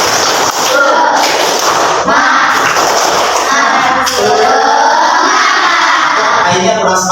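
A group of children clap together in a rhythmic pattern, mixed with loud group chanting and shouting, close and energetic throughout.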